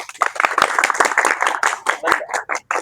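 Group of students in a martial arts kick lesson clapping their hands in a quick, fairly regular rhythm of sharp claps, close and moderately loud, continuing for a few seconds.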